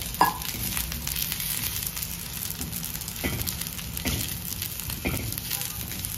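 Onion frying in a little oil for a raw jackfruit biryani gives a steady, soft sizzle, with a few faint clinks and stirring scrapes now and then.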